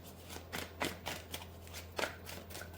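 Tarot cards being shuffled by hand, a quiet run of quick papery riffles and slaps in an irregular rhythm, close and with no talking.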